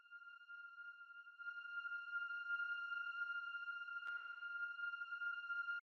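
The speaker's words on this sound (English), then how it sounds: "Another synth that's basically there to fill up some space is this disco string sound." Sustained disco string synth pad built from a bright, detuned saw-wave preset holds a steady root note of F, filling space in a minimal house track, with a brief click near the end.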